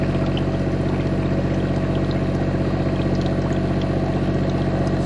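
Steady pump drone drawing oil out of a Caterpillar 3126 inboard diesel boat engine, a constant loud mechanical hum with a fast pulsing rhythm throughout and no speech.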